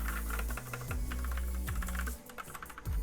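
Keys clack on a custom 65% mechanical keyboard with custom keycaps, heard as a close, steady run of crisp keystrokes with short pauses and no speech.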